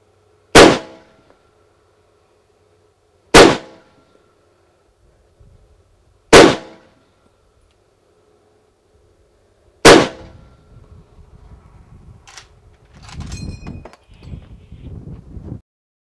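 Four loud, sharp rifle shots of 30-06 full metal jacket rounds striking a Level 3 hard armor plate, evenly spaced a few seconds apart, each with a quick decay, followed by rustling handling noise.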